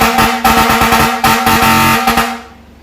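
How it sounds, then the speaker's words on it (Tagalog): An air horn fitted to a truck blasts in a series of loud, close honks with brief gaps between them, the tone cutting off and then fading into silence at the end. "Fire air horn pala."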